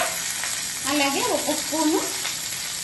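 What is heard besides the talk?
garlic and curry leaves frying in a pan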